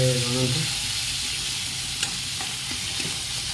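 Potatoes, tomatoes and poi leaves fry in a pan with a steady close sizzle and a few soft stirring clicks, after a brief low hum at the start.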